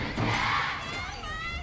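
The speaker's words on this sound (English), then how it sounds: "you can hear the crowd within the stadium" A large crowd in an esports stadium roars and cheers in a sustained wash throughout, with no clear speech over it.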